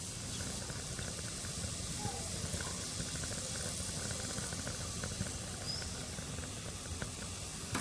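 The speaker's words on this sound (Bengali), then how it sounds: "রেড কালারটা দিয়ে ভেজে নেব" Red-coloured boondi for laddoos frying in hot oil, a steady broadband hiss and bubbling that stays even and unbroken throughout, with faint background voice traces.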